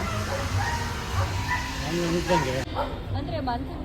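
Dogs at an animal rescue shelter barking and yipping in short bursts, mixed with people talking nearby.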